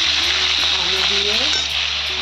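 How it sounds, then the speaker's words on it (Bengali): Potatoes frying with flat beans in a pan, a loud, close, continuous sizzle with steady stirring that stays strong and even from start to finish. "এখানে বটবটি দিয়ে আলু দিয়ে এই যে ভাজা করছি"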